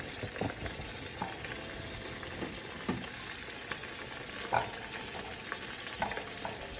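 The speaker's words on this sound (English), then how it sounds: "let this simmer on low until it becomes a beautiful glaze" A habanero glaze melting over low to medium-low heat for wings makes a quiet, continuous sizzle, broken now and then by soft bubbling pops and light stirring taps.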